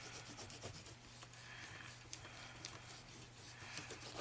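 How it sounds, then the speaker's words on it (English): Rub-on transfer being rubbed and burnished onto a paper envelope, a steady close scratchy rubbing with repeated short strokes, fairly quiet and continuous throughout, no voices. "you really, really want to rub and burnish that well"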